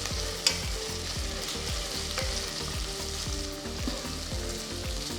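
Onions sauté in a pan with green chilies and curry leaves, giving a continuous close sizzle and crackle with repeated scraping stirs at a steady rhythm, no voices.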